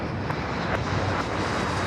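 A jet airliner on its takeoff roll down runway 25 Right at LAX, a steady broadband engine roar that holds loud and even throughout with no voices over it.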